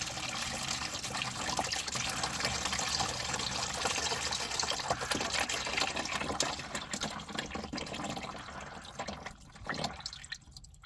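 Water drains from a Hummer in a steady, broad trickling and dripping rush that runs close and continuous for several seconds, then thins out and fades near the end.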